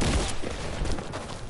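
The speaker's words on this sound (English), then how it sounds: "Power of the tactical submachine gun, boy." A tactical submachine gun firing in a PS4 shooter, rapid close bursts of shots rattling in an uneven rhythm, loud and without talk.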